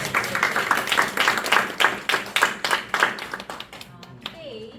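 A small audience gives applause after a club speech, with several pairs of hands clapping close by in an uneven rhythm that thins out and fades near the end, while a voice talks over it.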